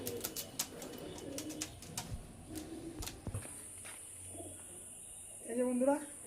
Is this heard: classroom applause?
no